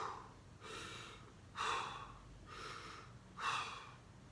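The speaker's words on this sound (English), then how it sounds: "take 3 deep breaths" Slow, deep breaths drawn in and let out at close range, a quiet rhythmic cycle of inhales and exhales with two fuller, louder breaths standing out, no talk.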